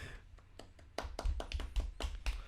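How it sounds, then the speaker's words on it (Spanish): A small group in a podcast studio gives a brief round of applause for an arriving guest: sparse, uneven close claps that pick up after a quiet start. "Un aplauso, por favor."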